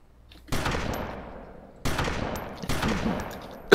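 Three loud bursts of automatic gunfire in a video game, each a sharp onset with a decaying rattle, the third ending in another sudden shot.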